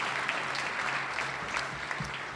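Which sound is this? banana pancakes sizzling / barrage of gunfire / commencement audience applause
commencement audience applause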